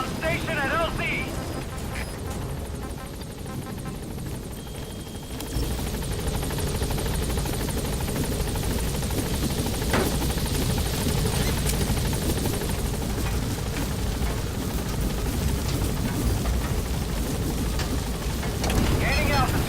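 B-Quad support helicopter hovering at the landing zone in Metal Gear Solid V: The Phantom Pain, a constant rotor wash and rumble that swells louder partway through, with voices speaking over it.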